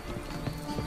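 Roach, the horse in The Witcher 3 video game, galloping with quick rhythmic hoofbeats, quiet and steady over a faint game background, with a brief whinny.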